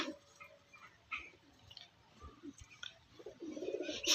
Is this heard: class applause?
no